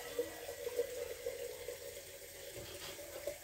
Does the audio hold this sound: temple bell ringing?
no